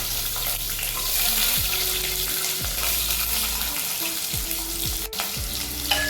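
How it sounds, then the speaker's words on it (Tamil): About 100 grams of small onions sauté in oil with a green chili in a pan, making a continuous close sizzle broken by a few light stirring clinks. "நல்லா வதக்கிக்கலாங்க. வெங்காயம் நல்லா வதங்கணும்."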